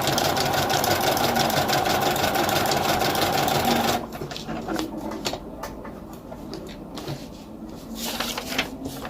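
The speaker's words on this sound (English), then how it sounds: "I've got my presser foot down, and now I'm going to use my foot pedal" Sewing machine run with a foot pedal, stitching a narrow piece with the presser foot down: a steady fast mechanical whir for several seconds, then it stops, leaving light handling clicks and taps nearby.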